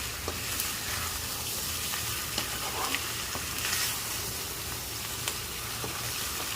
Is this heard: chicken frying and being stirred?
yes